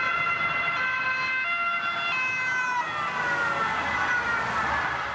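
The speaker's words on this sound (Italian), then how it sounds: "le pattuglie si lanciano all'inseguimento a sirene spiegate" Police patrol car sirens wail continuously during a chase, several overlapping tones rising and falling, loud and steady throughout with traffic noise underneath.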